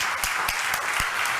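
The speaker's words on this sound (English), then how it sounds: "To thunderous applause." Steady applause from an audience at the end of a talk, dense clapping with a few sharper individual claps standing out, continuous for the whole moment.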